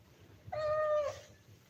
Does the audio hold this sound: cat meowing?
yes